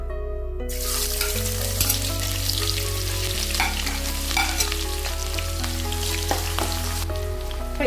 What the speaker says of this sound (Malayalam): ആദ്യം ഞാൻ ഇഞ്ചിയും വെളുത്തുള്ളിയും ചേർത്ത് കൊടുക്കുകയാണ്.